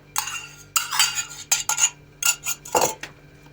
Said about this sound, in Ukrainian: І тепер будемо вимішувати рукою.